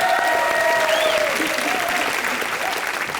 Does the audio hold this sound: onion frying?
no